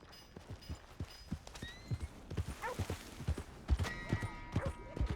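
Hooves clip-clop in a steady rhythm close by, with a horse's whinny rising partway through, over faint ambience in the video game Red Dead Redemption 2 on PC.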